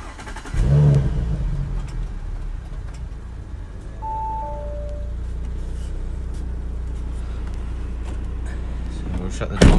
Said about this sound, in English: Go ahead and start the car up